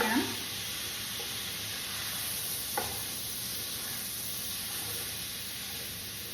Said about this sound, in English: I'm just letting all of those spices roast a little bit in the pan.